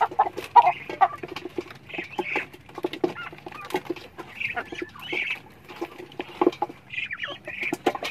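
Native chickens kept as backyard birds cluck and chirp in scattered short calls, fairly close, with faint rustling between calls and no talk.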